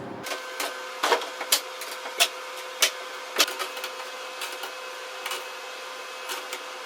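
A steady mechanical hum of a freeze dryer running nearby, with small irregular clicks and ticks over the drone.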